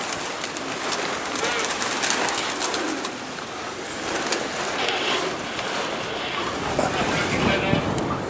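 Pigeons diving at Perama fill the air with a dense, continuous wash of wing rush and bird noise, steady and fairly loud throughout, with faint cooing mixed into the outdoor background.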